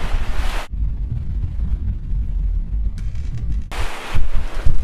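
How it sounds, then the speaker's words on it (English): Steady low rumbling wind buffets the microphone throughout on a SailAway 219 sailboat in wavy, windy conditions, with bursts of broadband rushing noise at the start and end. "It's always kind of wavy, windy."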